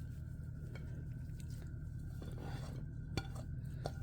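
Kebab mixture for frozen chicken and vegetable seekh kebabs being mixed by hand with coriander leaves and spring onion, giving soft steady squishing and stirring with a few light clinks of a bowl, low background hum throughout, no talking.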